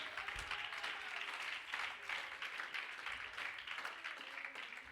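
Church congregation clapping as an offering of praise to God during a Spanish-language sermon, a dense, steady round of applause filling the room at a moderate level throughout.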